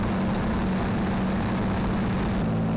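Supermarine Spitfire in flight, its engine a steady, loud, low droning roar with an even pulse and no pauses.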